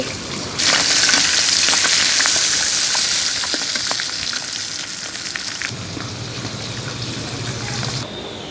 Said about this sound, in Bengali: মাথা ভেজে নিছি